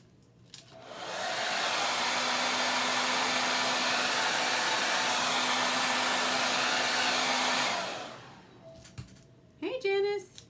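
A hair dryer blows steadily at close range for several seconds, then cuts off, followed by brief handling noises and a short burst of speech.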